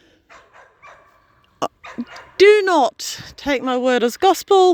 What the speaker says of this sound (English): You can hear some of the dogs bark in the background.